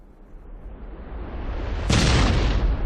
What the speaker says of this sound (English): With several thundering explosions, Krakatoa would come alive again.